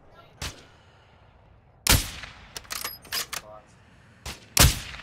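Gunshots in a first-person video game: sharp single cracks, one early and a loud cluster later with a final heavy shot, set against near-silence.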